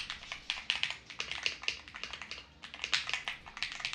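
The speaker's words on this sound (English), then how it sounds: "It uses gasket mounted structure for a soft typing feel." Fast typing on a gasket-mounted mechanical keyboard with OLAP tie switches, a dense, crisp, clacky stream of keystrokes with a brief pause midway, close and clear with no talk.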